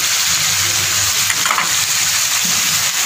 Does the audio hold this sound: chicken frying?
yes